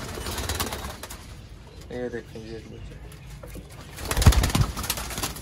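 Sialkoti rooftop pigeons coo in a few short, soft rhythmic bursts nearby while someone speaks briefly, followed by a loud rustle or flutter.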